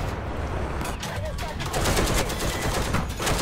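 Bursts of gunfire from tank combat in the video game War Thunder rattle steadily, moderately loud, amid a busy background with some speech underneath.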